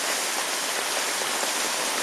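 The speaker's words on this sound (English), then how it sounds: "It's melting as it hits, but it's pretty big hail." Dense rain and big hail drum down close by in an even, loud hiss.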